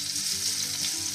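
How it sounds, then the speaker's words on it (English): Oil heats in a fry pan with a steady, close, hissing sizzle that stays even and continuous throughout. "Now we take a fry pan, add some oil and"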